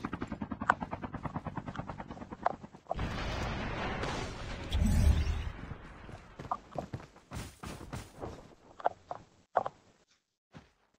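A helicopter arrives overhead in the video game Call of Duty, a steady rotor roar swelling for several seconds before fading, set among sharp footsteps and clicks with no talk.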